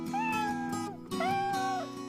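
A Javanese cat meows twice in succession, close and clear, each call rising and then falling in pitch, with a short pause between them.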